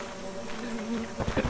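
Bees buzz with a low, steady drone in the video game Lethal Company, faint and close, with a few soft footstep-like thumps near the end.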